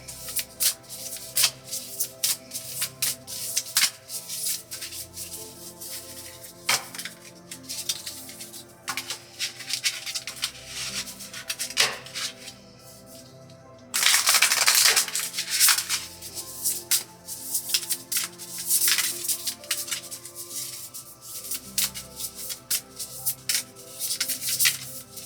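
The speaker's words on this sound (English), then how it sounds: "I'm going to shuffle this deck once more" A tarot card deck being shuffled by hand, with repeated crisp riffles and soft sliding patter in bursts, close and clear, including a longer dense shuffle midway, with no talking.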